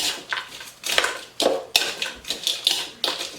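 Kale Caesar salad with croutons and bacon being tossed in a bowl, giving a string of close, crisp scraping and clattering bursts in an uneven rhythm, with no talk.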